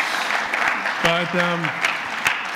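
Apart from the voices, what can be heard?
audience applause for guest at church service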